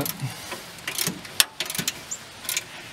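On an old Ford truck, a bolt is tightened during a water pump replacement. Faint ratcheting clicks and small metallic knocks come in irregular bursts close by, with no talking.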